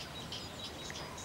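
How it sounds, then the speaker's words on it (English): Birds chirp in trees on a fine day outdoors, their short, faint high calls repeating over a steady wash of background noise. "Can you hear the birds?"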